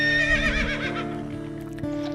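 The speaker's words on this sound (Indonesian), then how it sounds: "melecut kuda dengan keras agar lekas sampai ke tujuan" A horse whinnies loudly and shakily as a horse-drawn carriage moves along, the neigh trailing off over a steady background rumble with faint hoof clatter underneath.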